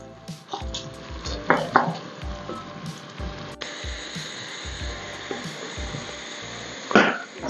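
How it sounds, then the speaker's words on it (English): Onions frying in a pan until caramelized for a keema matar masala, giving a steady sizzling hiss with occasional clinks and scrapes of stirring, and a brief sharper burst near the end. "We have to cook the onions till they are nicely caramelized."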